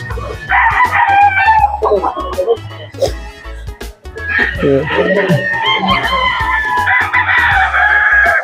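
Golden Boy Sweater gamefowl roosters at a gamefarm crowing loudly and close, with several long overlapping crows one after another and some clucking and other farm noise between them.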